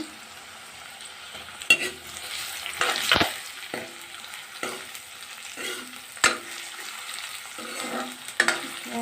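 Onions frying with ginger, garlic and chilli paste in a pan, a continuous sizzle broken by sharp scrapes and clinks of a spatula at irregular intervals, close by, no talking.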